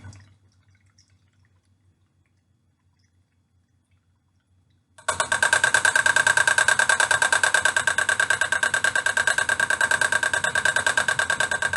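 After about five seconds of near silence, an electric makeup brush cleaner starts up and spins continuously, a loud steady motor whir with a rapid rhythmic pulsing and a high sustained tone that holds without letup to the end.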